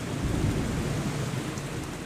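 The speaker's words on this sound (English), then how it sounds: "heavy rains began." Heavy rain pours steadily with low thunder rumbling beneath it, a dense, loud, unbroken wash of sound.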